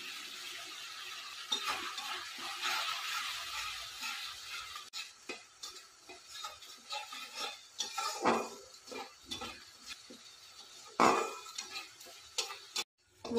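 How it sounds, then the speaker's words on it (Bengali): A spice paste with tomato and chilli powder is stirred and fried in a pan, with repeated scraping and clinking of a spoon against the metal over a low sizzle, close and uneven, with a few sharper knocks and no talk. "ভালো করে মশলাটাকে কষিয়ে নেব।"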